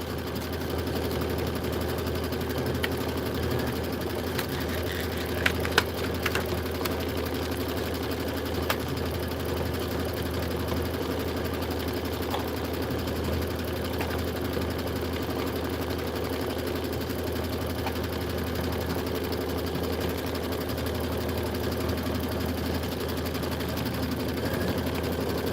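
A sewing machine stitches quilt filler blocks in a sewing shop, running as a steady low mechanical hum with a few faint clicks, moderately close and continuous without talk.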